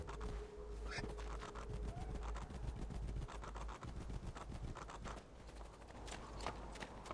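Horse hooves clopping at a steady walking gait in the video game Assassin's Creed II, a continuous rhythmic patter mixed with wind-like noise and occasional faint voices.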